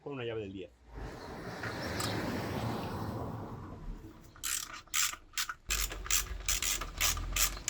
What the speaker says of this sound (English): Now we remove the 4 screws with a 10mm socket.